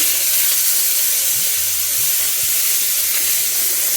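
Onion and garlic fry in a pan with a constant loud hiss and steamy sizzle, steady and close, with a few faint low clinks underneath and no talking.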